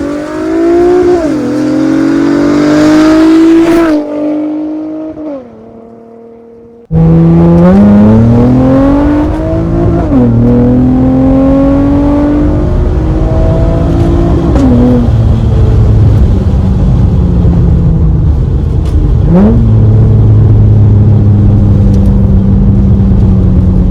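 Acura TL with a fully catless exhaust revving hard, engine pitch sweeping up and dropping back through several loud blips, with a brief lull before the revs return, close and alone.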